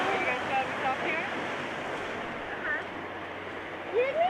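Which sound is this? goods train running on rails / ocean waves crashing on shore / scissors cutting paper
ocean waves crashing on shore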